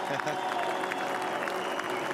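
A massive crowd applauds race winner Craig Lowndes at the Clipsal 500 in Adelaide, steady clapping and cheering spread wide and distant, continuous throughout with a faint voice over it.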